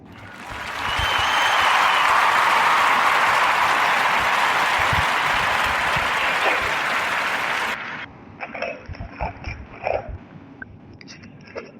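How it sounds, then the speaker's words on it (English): A podcast audience breaks into loud, sustained applause that swells quickly, holds for several seconds and then cuts off, leaving scattered quieter sounds. "clap it up for David L."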